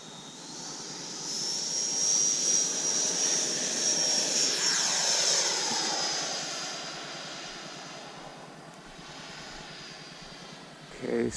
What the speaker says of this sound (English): Okay, taking off.